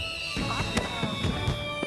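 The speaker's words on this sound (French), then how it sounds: "le bruit des explosions peut les effrayer" Fireworks go off in an animated firefighter cartoon, a rapid series of sharp pops and bangs laced with high whistling tones, moderately loud and close.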